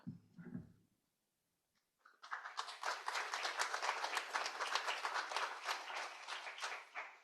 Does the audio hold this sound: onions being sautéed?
no